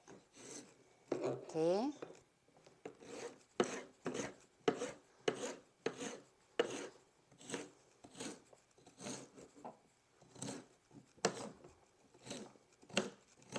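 A carrot is cut and grated by hand, giving a series of soft rhythmic rasping and chopping strokes, close but quiet, with a brief spoken word near the start.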